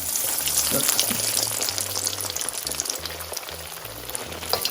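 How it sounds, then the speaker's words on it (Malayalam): Chicken-stuffed chilli bajji deep frying in hot oil, a continuous bubbling crackle with faint low knocks in the background, moderately quiet and close. "ഇനി നമുക്ക് ഇതൊന്ന് എണ്ണയിലിട്ട് വറുത്ത് കോരിയാൽ മതിയാകും."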